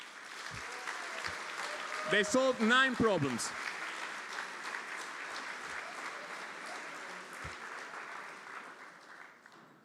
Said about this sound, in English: a big round of applause for our first bronze medal